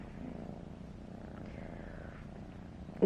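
A pet cat purrs steadily and close by, a low continuous rumble with a soft bump of handling noise at the very end; no one speaks.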